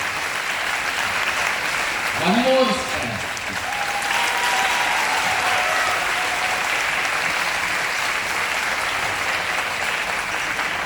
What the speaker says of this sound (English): We must give a huge round of applause to man Ananda Shankar Jain.